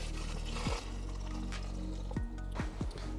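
Liquid, probably homemade fermented lemonade, pours through a cutting board used as a makeshift funnel, giving a steady close trickle with a few short splashy bursts and no talking.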